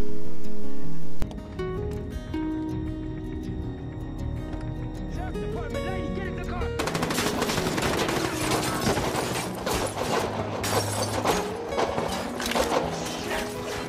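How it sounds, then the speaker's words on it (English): A rapid burst of gunshots crackles over music, with repeated sharp bangs building into dense, loud gunfire. "So you already heard multiple gunshot effects in the video."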